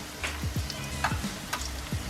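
Tuna balls fry in hot cooking oil, a steady close-up sizzle with sharp crackles and pops scattered throughout, and no voices.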